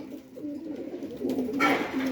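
Pigeons for sale at a market coo steadily nearby in a low, throaty murmur, growing louder toward the end, with no talk.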